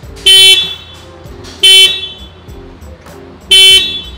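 Stock horn of a Suzuki Jimny before replacement sounds three short, loud, nasal beeps spaced about 1.5 seconds apart, close to the microphone.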